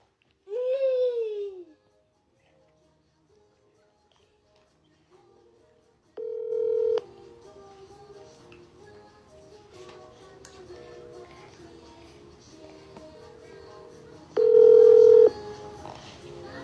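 A telephone is dialed to place a call, with a string of short keypad tones and sustained beeps over a murmur of background voices, after a brief vocal cry near the start.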